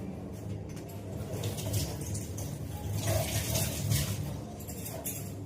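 Homegrown lemons rinsed under a running tap, a steady close rush of splashing water with small shifts as the fruit is turned in the stream.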